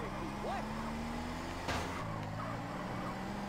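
A car drives in GTA San Andreas with a steady engine drone and a brief rattle midway, heard under casual talk.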